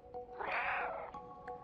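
Cat meowing in the video game Stray, a single clear drawn-out meow at close range over quiet ambience, followed by a few soft clicks.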